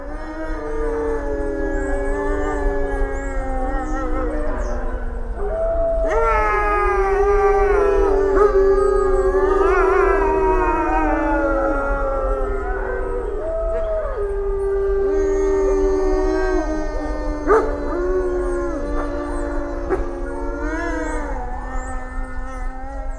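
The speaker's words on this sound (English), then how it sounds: "After hearing this howl from a wolf dog named Kaitis" A wolf-dog hybrid howls in long, wavering, sustained tones that rise and fall, with several overlapping, siren-like howls that carry on loudly and continuously.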